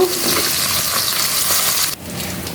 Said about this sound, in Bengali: আমি উল্টে দিছি আর এক পিট ভাজার জন্য